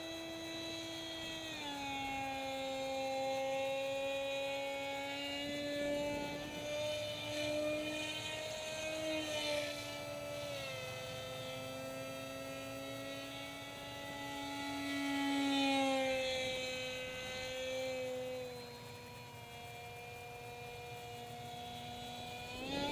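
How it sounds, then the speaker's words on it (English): RC foam F-22 model plane with EMP 6x4 propellers, a steady high electric whine from the prop that swells and fades as it passes, with a slight wobble suggesting imbalance, heard alone and fairly faint. "Those EMP props, even though I balanced it, it still sounds out of balance."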